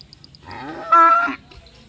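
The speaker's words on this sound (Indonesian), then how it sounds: "Ini sapi tim dari Joko Pinurun Berandal Jaya." A single drawn-out moo from a cow, rising louder toward the end, fairly close, with faint background noise.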